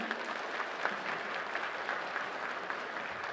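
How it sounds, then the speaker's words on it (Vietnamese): Steady applause from an audience at a Buddha's Birthday celebration held jointly by temples in San Diego, a dense even wash of clapping that holds without breaks for a few seconds at moderate volume. "cho chúng con xin được một tràng pháo tay nữa thật lớn"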